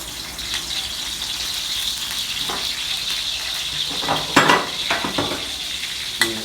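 Mussels stir-fry with a paste of garlic, red chili and fingerroot, giving a continuous sizzle; toward the end, spatula scrapes and clinks on the pan come through louder.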